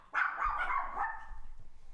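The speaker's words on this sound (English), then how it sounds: "Just because I dedicated a song to you doesn't mean you can just bark whenever you want." A dog gives a single drawn-out bark that trails into a fading whine, fairly close but quiet, with no one talking over it.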